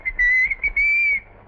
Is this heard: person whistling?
yes